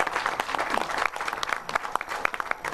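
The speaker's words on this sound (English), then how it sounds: "let's give a big round of applause to the State of our City Committee" An audience at a sold-out State of the City event claps for the organizing committee, dense applause with individual claps standing out near the end as it tapers slightly.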